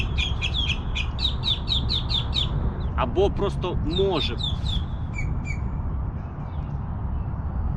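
Birds chirp in quick repeated bursts, sharp high tweets over a steady background rumble, with a brief spoken phrase in the middle.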